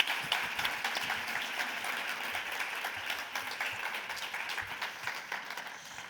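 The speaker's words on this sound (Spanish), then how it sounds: "yo les voy a pedir un aplauso ya de entrada" An audience at a pharmacy conference talk applauds with dense, sustained clapping that holds steady for several seconds and slowly tapers, moderately close in a hall.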